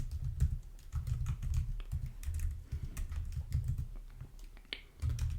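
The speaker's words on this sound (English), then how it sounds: "now inside of this curly bracket I'm going to type something like name is equal to the name" Quick, irregular bursts of key clicks on a computer keyboard while code is being entered, close and fairly quiet, with short pauses between runs of typing.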